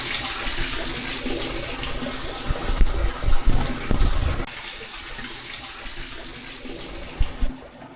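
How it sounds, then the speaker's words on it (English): Brook water flowing where two small streams meet near a tunnel, a rushing, churning outdoor wash with louder surging bursts midway, then a quieter steady flow, no talking. "the obscure Bower Brook meets the obscure Hollinwood Brook, and combined there will be the Moston Brook"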